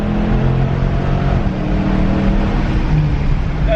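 A Cadillac CTS-V V1 car accelerating while drifting, its engine droning steadily and loud and close, with a rough, continuous roar.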